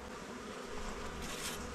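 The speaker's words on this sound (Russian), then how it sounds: "легонечко струшую пчелку. На сухенькие рамочки на медове." Honey bees buzz steadily on frames lifted from a hive, a dense continuous drone that stays close and even throughout, with no voices.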